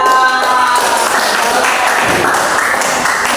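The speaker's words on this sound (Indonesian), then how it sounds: "Tepuk tangan." Children in a classroom clap together in a dense, steady burst of applause that fills the room and holds at an even level throughout.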